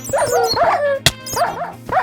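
Pet dogs in Minecraft give several sharp, close, game-style barks in quick succession, with a brief sharp click partway through.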